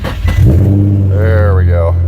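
A 3.5-liter V6 car engine catches after a jump start and settles into a low, steady idle rumble close by, while a person talks over it.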